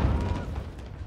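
Grenades explode in the video game Call of Duty: Modern Warfare 2 as one brief, heavy low boom that rumbles and fades, close and loud.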